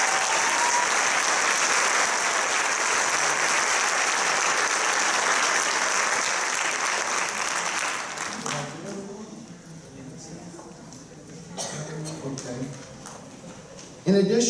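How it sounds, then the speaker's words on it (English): A high school senior awards ceremony audience gives a dense, loud round of applause for the Class of 2018 seniors, which thins out after about eight seconds into quieter scattered sounds. "Let's give these seniors a round of applause."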